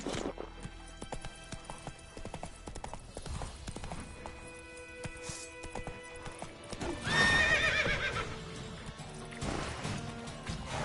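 In The Witcher video game, the horse Roach moves along with a steady clip-clop of hooves. A loud whinny rises partway through, and the hoofbeats continue after it.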